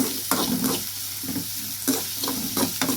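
Ingredients for a Tamil potato poriyal sizzle and crackle in hot oil while a spoon stirs the pan, with periodic scraping strokes over a continuous close frying hiss.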